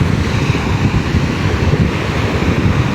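Waves from a lake breaking steadily on a deserted beach on a cool autumn day in Michigan, a continuous loud wash of surf mixed with gusty wind buffeting the microphone, with no voices.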